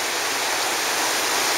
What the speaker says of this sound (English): The waves there are pretty good.